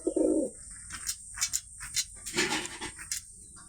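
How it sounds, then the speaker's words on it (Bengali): A young pigeon coos softly and close by, a low throaty burst at the start followed by scattered short calls and chirps from the same bird in an otherwise quiet spot. "এটা বাচ্চা কবুতর।"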